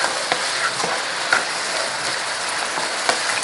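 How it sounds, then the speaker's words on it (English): Palabok sauce boiling and simmering in a pan, a soft, steady bubbling hiss with scattered small pops and ticks, close and continuous, with no talking. "keep that boiling, simmering like that"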